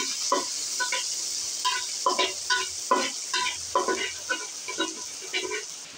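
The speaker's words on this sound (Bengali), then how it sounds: "এবার এটা আমি হালকা ভাজা ভাজা করে নিই।" Chopped onions and green chilies frying in hot oil in a pan, a soft steady sizzle broken by repeated scraping stirs in an uneven rhythm, close up and without speech.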